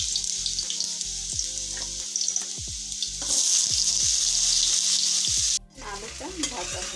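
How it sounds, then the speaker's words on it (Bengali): Potato pieces frying in hot oil on a stove, a loud, steady sizzle broken by repeated scrapes and knocks of stirring, with a brief gap before the frying resumes. "এখন এই তেলের মধ্যে কিছুটা আলু দিয়ে দিব"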